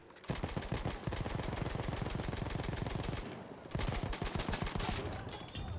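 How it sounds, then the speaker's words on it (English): Light machine gun in Battlefield 1 firing long sustained bursts of rapid, evenly spaced loud shots, a short pause, then another sustained burst, with no speech over the gunfire. "So I'm using an LMG now."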